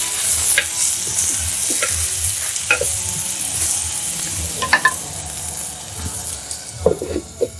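Cut potatoes for a Sri Lankan fried potato dish are tipped into already boiling oil in a pan. A steady, close sizzle runs throughout, with occasional spoon scrapes and stirring clinks and no talk.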